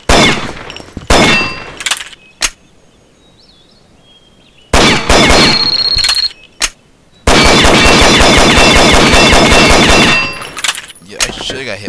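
Automatic gunfire from the online shooter game Combat Arms rattles out loud, close bursts broken by short gaps, with metallic clangs between them.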